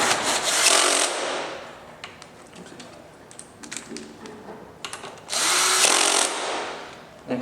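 A power driver tightens hex head bolts on a Yamaha R3 during a fender eliminator install, with two loud whirring bursts of about a second each, separated by quieter clicks and handling noises.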